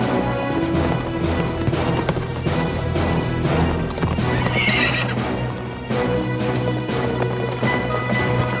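Horses galloping in a Wild West setting, loud rapid hoofbeats pounding continuously with sharp neighs and whinnies breaking through, close and busy with crashing impacts mixed in and no talk.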